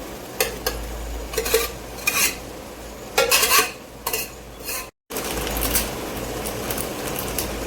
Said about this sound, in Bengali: এবার ভেজে রাখা আলুগুলো দিয়ে দেওয়া হচ্ছে।